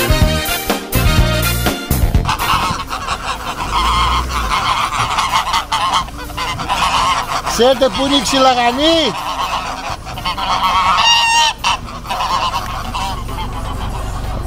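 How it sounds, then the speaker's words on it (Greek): Geese on a rural road near Komotini honk loudly in a close, repeated chorus, with clear honks standing out midway, while a person speaks briefly over the flock. "Σταματάμε να περάσουν οι χήνες εδώ"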